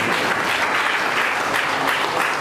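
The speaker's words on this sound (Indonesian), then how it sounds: "Beri tepuk tangan untuk Tuhan Yesus Kristus" A congregation at a Christmas church service breaks into loud, dense applause, a thick continuous roar of many hands clapping that stays even throughout, with no talk over it.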